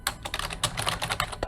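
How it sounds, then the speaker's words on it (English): Rapid clicking keystrokes on a computer keyboard, close and crisp, tapping out in an irregular quick rhythm with no talking. "Typing. Okay, it's annoying, I know."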